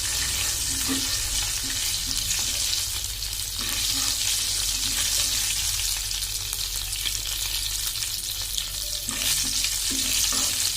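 Cumin and fennel seeds fry in oil over a medium stove flame, giving a steady, dense sizzle with faint crackles that runs unbroken and close by.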